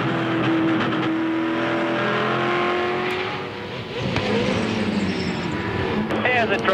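V8 Supercars race cars roar around Phillip Island during a championship-deciding race, a continuous loud engine drone with revving and cars passing, under a commentator's voice.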